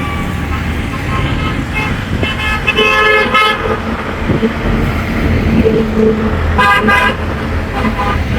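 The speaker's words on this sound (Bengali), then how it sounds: "এটা হচ্ছে গাজীপুর থেকে ঢাকার দিকে গাড়ি আসতেছে" Road traffic rushes past Gazipura bus stand on the road from Gazipur toward Dhaka, a constant near roar of engines broken by several loud car horn toots, some short and some held.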